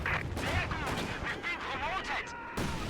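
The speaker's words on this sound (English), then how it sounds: "It's a Neri barrage coming in with rifle grenade." Rifle grenade barrage in a World War II strategy video game, rapid bursts of explosive fire thumping over about three seconds, with a voice talking over the blasts throughout.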